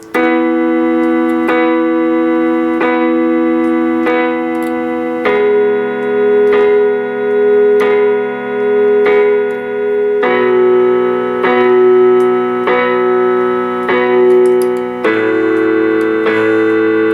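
A piano plays the intro of a song, steady repeated arpeggiated notes with a shifting chord every few seconds, clear and loud with sustained ringing tones and no talking.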